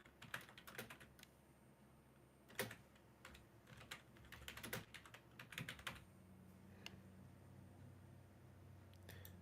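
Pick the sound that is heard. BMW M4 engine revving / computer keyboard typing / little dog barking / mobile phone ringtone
computer keyboard typing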